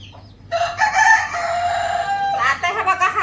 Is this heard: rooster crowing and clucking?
yes